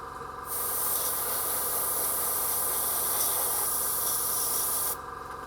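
Airbrush spraying Vallejo paint onto a Khorne skull altar miniature, a steady close hiss running unbroken for about four and a half seconds between short quiet gaps.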